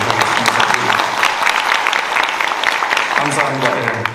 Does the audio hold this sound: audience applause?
yes